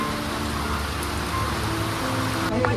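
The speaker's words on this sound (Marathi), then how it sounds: "पाऊस बघ" Constant hiss of steady monsoon rain falling in the Konkan countryside, fairly even and close, with no voices.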